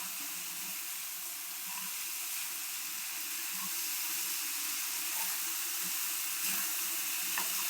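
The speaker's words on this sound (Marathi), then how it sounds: "थोडं पाणी घालायचं" Water poured into a cooking pot of spiced moth bean curry, a steady hissing, sizzling rush that stays even and moderately loud throughout, with faint bubbling beneath and no voices.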